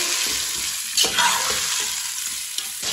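Tomatoes cooking in a pan for a Punjabi-style biryani, with a continuous close sizzle and frying hiss broken by a few louder scrapes and stirring clatters, and no talking.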